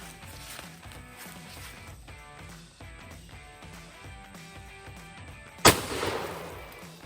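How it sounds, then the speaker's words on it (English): One sharp, loud shotgun slug blast fires through a Toyota windshield after several seconds of quiet low background noise and faint rhythmic shuffling, and a short decaying echo follows the shot. "So we're gonna put another slug through the windshield."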